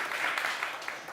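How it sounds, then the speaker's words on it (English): Brief, faint burst of clapping from an audience at a pitching event on social-impact stories, welcoming an investor; it fades almost as soon as it starts. "Applause to Rick."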